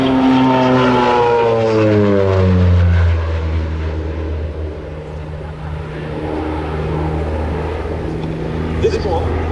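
A North American OV-10B Bronco, an ex-Luftwaffe target tug, roars past at a flying display, its twin propellers making a loud, close drone that sweeps down in pitch as it passes, then fades to a steadier, more distant hum.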